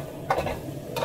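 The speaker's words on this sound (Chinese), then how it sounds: "最后调中火炒香" Green beans are stir-fried over medium heat in a wok, giving a soft low sizzle with two brief scraping tosses, close and short, with no voices.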